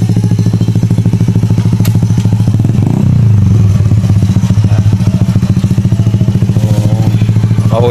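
A Honda Wave 110 motorcycle idles nearby in a loud, steady putter, with a brief swell of revving partway through and some metallic clatter around it.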